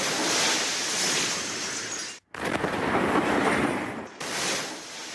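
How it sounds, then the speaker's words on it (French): Loud, roaring blasts from a meteorite breaking up over Chelyabinsk, Russia, in February 2013. The sound is a broad, sustained rumble, cut by two brief sharp drops, with no voices. "Des explosions simultanées."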